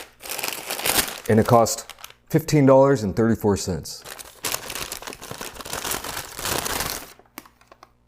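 A paper bag holding a Meat Freak quadruple-patty burger crinkles as it is handled, with bursts of rustling between and under a man's speech.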